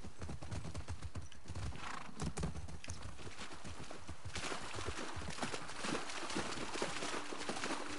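Horse hooves clip-clop in a steady walking rhythm, fairly close, with a faint background ambience, in the video game The Last of Us Part II.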